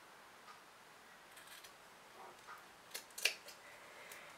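Scissors snip through fabric while a hobo bag is being cut out, a few faint, soft crisp clicks scattered across a quiet room, growing slightly sharper near the end.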